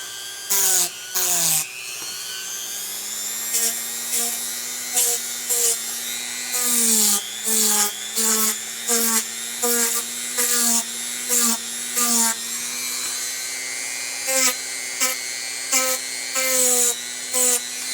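A Dremel rotary tool sands the hard edges of foam in repeated short high-pitched whining bursts with brief pauses between them, close and clear.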